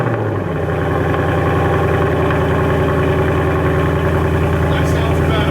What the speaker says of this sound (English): we'll be lowering the car to fire it up to hear it for the first time